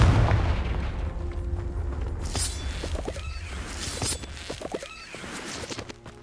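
A booming fire-spell blast from Confringo in Hogwarts Legacy erupts with a dense, crackling burst partway through, layered over rumbling game effects and ambience.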